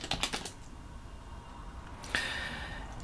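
Computer keyboard keys tapped in a short burst of clicks at the start and again near the end, fairly close and quiet, against a faint steady background hum.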